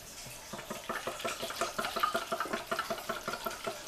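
Water pours in a steady, pulsing stream for gelatin, with a rapid rhythmic gurgle and splash close by, alone.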